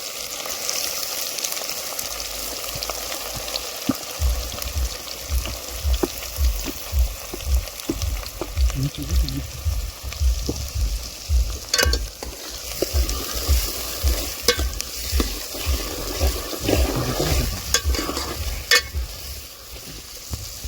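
Onions are added to hot oil with cumin and stir-fried in a pan for dhaba-style chicken bhuna, sizzling steadily under a regular rhythm of loud, close scraping stirs.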